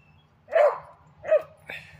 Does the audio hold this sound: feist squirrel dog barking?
yes